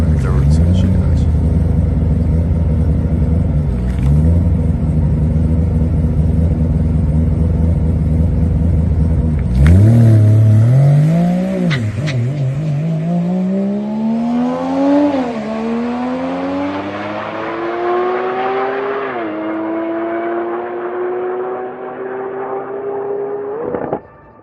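A three-rotor billet-engine Mazda RX-7 drag car on a Darlington dragway pass, rotary engine loud and close, revving up through successive gear changes with rising pitch and brief drops between shifts, cutting off at the end.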